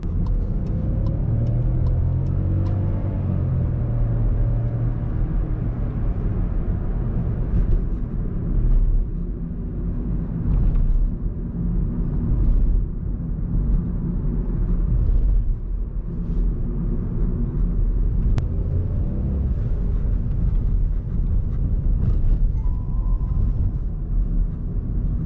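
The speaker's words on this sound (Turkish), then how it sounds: "Ne zaman ki böyle gaza yükleniyorsunuz, o zaman o hırıltılı 3 silindir gelmeye başlıyor arkadaşlar." A Skoda Fabia Premium with a 1.0 TSI three-cylinder engine and DSG gearbox pulls under acceleration, giving a steady, loud low rumble with a raspy growl that holds throughout, heard from inside the car with no talk.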